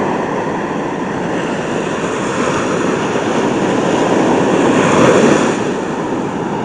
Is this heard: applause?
no